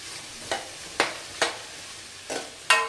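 Jeera rice with potato pieces being stirred in a pan, five distinct scraping strokes at roughly half-second intervals with a soft sizzle between them, close and fairly quiet, no talking.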